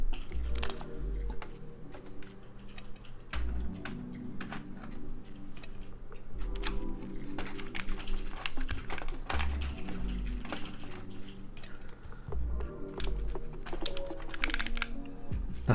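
Typing on a newly built Vertex Angle mechanical keyboard, a steady run of close, crisp key clacks with uneven rhythm and occasional heavier thocks, continuing alone throughout without talk.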